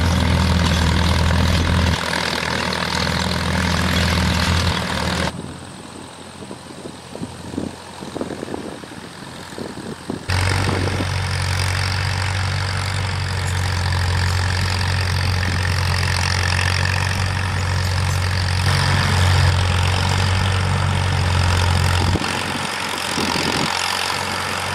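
A 1948 Farmall M tractor engine runs at low RPM while pulling a 72-inch PTO-driven three-point finish mower, a continuous heavy drone with a low rhythmic thrum that briefly changes tone mid-way before settling back into its steady rumble.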